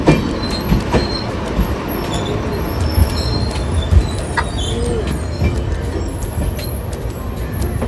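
The Konkan Kanya Express rolls along the Konkan Railway with a loud, continuous rumble close by, with rhythmic wheel clatter and intermittent high metallic squeals over the noise, and no voices.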